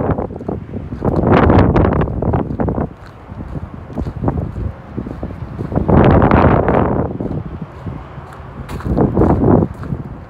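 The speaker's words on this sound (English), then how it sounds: "Man, that wind is crazy." Strong gusty wind roars and buffets the microphone on the Appalachian Trail near Bland, Virginia, rising and falling in loud surges with rustling between the gusts.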